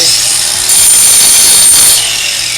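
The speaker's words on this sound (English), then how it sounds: "Right now it has a disc for grinding." A Craftsman 20-volt cordless grinder fitted with a grinding disc runs at close range, a loud steady whirring whine that swells to a higher-pitched tone partway through, then settles back.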